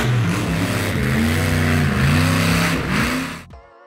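A 1934 Ford sedan converted into a tracked vehicle with a diesel Dart 540 engine, revving loud and close with a rising and falling growl before cutting off abruptly near the end.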